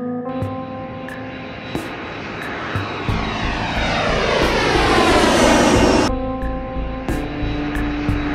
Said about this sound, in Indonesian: Aktifkan armada tempur langit, jet Falcon dan drone siluman